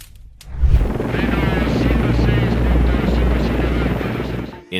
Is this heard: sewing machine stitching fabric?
no